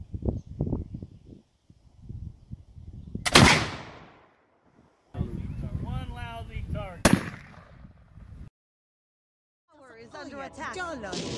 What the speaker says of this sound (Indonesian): Mirip dengan suara tembakan senjata klasik zaman dulu